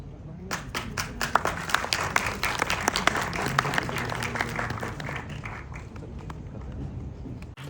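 Seminar audience giving a round of applause, dense continuous clapping from a hall of people starting abruptly and holding steady, moderately loud, thinning toward the end.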